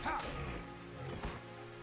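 A dog in the video game Dirge of Cerberus: Final Fantasy VII gives a short bark at the very start, followed by lower growling and a second brief yelp, set against steady game ambience.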